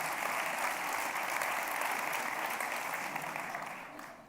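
A lecture audience at a festival talk applauds in a dense, steady wash of clapping that holds strong throughout, then begins to fade away at the very end.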